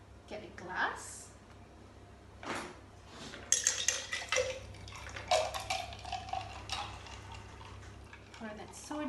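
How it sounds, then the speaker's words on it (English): Lychee soda poured into a glass, wet splashing mixed with light clinks of glass and utensils, moderately close, with brief background voice-like sounds. "Pour that soda in."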